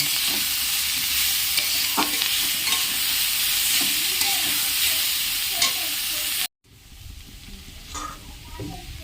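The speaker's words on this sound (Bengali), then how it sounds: "ক্যাপসিকাম গাজর মটরশুঁটি এগুলো সব দিয়ে দিলাম দিয়ে একটু ভালো করে নেড়ে নিচ্ছি" Capsicum, carrot and peas frying with boiled broccoli while being stirred in a pan, a loud continuous sizzle with scraping strokes, then a brief cut and a softer sizzle.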